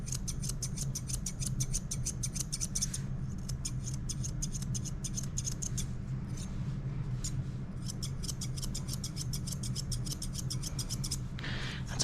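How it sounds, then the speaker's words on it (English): Thinning shears and scissors snip rapidly through a Shih Tzu's yeast-covered fur, crisp rhythmic bursts of clicking cuts with brief pauses, close and steady, no talk. "You can only go so short with thinners and scissors."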